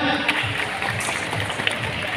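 Audience applause at a Dunia Fantasi (Dufan) event in Ancol, Jakarta, a dense steady patter of clapping from a crowd, fairly loud and continuous throughout with a faint murmur of voices beneath.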